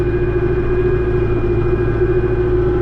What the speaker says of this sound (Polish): Cały czas jest ciągnik w obiegu.